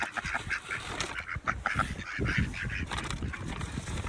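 A flock of ducks quacking and honking loudly during a chaotic feeding with bought duck food, dense overlapping calls close by with no talking.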